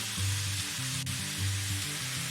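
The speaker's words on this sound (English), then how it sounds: "We're gonna throw this shrimp in here real quick" Butterflied shrimp hit a hot pan and sizzle steadily, a close, bright frying hiss with low pulses as tongs spread them around, no voices.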